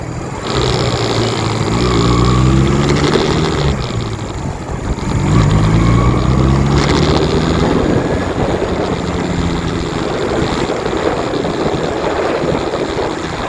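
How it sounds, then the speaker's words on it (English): A car engine revs high while held in second gear on a drive through Cook's Forest, a loud sustained droning hum with rising and falling pitch, steady and close, with no talk. "I'm revving a little high, but I don't want to go to second and then have to go third."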